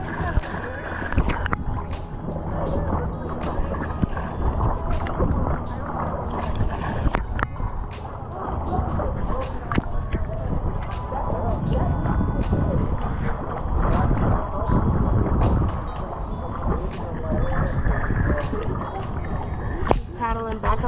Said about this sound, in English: Let me pick up the paddling.